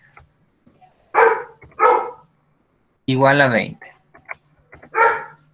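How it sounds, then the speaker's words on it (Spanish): Several dogs bark in short, loud, close bursts, spaced about a second apart, with one longer, wavering bark in the middle; someone speaks Spanish quietly between the barks. "Ya se van a calmar mis perros"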